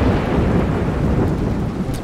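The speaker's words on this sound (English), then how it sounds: "That's why I'm out here in the rain and not in my cab." Heavy rain pours steadily through a thunderstorm with deep rolling thunder, a dense, loud, continuous roar close by, no voices.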